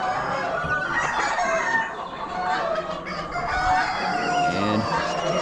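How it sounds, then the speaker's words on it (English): Hens cluck and a rooster crows among poultry at an Amish auction, a busy, fairly loud flock with overlapping calls and no clear talk. "A couple of hens."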